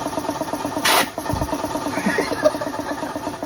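An air compressor or pump starts up and fills with air, a steady mid-pitched motor hum running throughout, broken by a short burst of hiss near the start.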